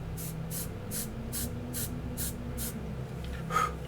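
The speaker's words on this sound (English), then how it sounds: "I'm just going to lightly mist" White spray paint is misted lightly onto a figure's clothing in about eight short, evenly spaced hissing bursts from a can held at a distance, over a low steady background hum.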